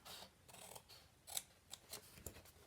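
Large scissors snip through paper in several quick, crisp cuts, close and fairly quiet, with short pauses between strokes.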